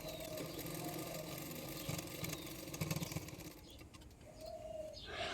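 A sewing machine stitches a blouse: a steady, close, continuous mechanical whirr with a fast rhythmic chatter that stops partway through, followed by quieter room sound.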